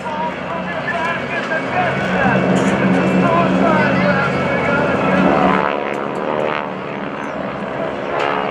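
GEICO Skytypers vintage propeller planes at the 2014 NAS Oceana airshow give a steady, loud, throbbing engine drone that swells and eases as they pass during a solo head-on routine, with an announcer talking over it.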